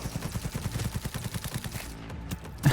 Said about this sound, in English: It's just shooting at whoever's fucking in its sights.